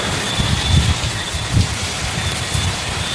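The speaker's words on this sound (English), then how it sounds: "We've had rain intensified, and we've had the winds intensified a little bit as well, so you can hear it on the roof." Heavy rain from Hurricane Melissa pounds a roof in a steady, dense roar, with wind gusts swelling the sound in waves.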